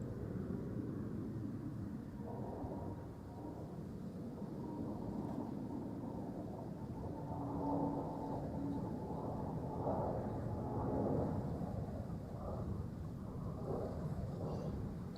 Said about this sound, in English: The Finnair A350, there he goes, off to Helsinki.